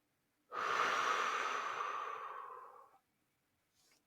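A single deep breath is exhaled slowly through the mouth, a close, airy whoosh lasting about two and a half seconds that gradually fades out, with silence on either side.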